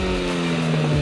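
A Volkswagen Golf GTI Mk5 engine and exhaust hold a loud, steady, smooth drone for a moment, close by and with no voices.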